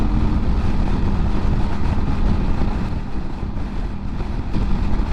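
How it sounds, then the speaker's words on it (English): Strong wind buffets past a Kawasaki Vulcan 900 cruiser on the freeway, a loud continuous roar with rumbling engine underneath, steady and unbroken. "this wind is just coming through here now"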